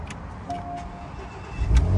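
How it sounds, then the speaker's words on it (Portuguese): A 2015 Porsche's engine idles with a steady low rumble after the key start, swelling into a louder, deeper surge near the end, heard close up with no talking. "Nossa, o motor já tem um roncarzinho."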